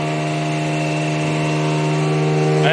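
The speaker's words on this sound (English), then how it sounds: "And this is the motor" An independent drive motor on a multifold hand towel folding machine hums with a steady, loud mechanical drone and a strong constant tone, running evenly without change and with no voices.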